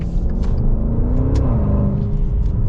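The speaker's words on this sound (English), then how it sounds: "That is such a characterful engine." A 2021 Maserati Levante GTS SUV engine rumbles and revs steadily up close, a deep throaty drone with a slight rise in pitch partway through.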